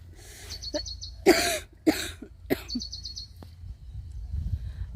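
Several harsh coughs come in a close cluster, loud and near, while birds chirp repeatedly in the background over a low rumble.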